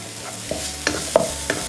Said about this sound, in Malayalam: ഒരു 2 മിനിറ്റ് ഒന്ന് സോട്ട് ചെയ്യും.